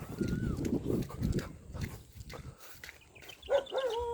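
A dog barks a few times amid rustling and movement outdoors, with a brief higher-pitched yelp near the end.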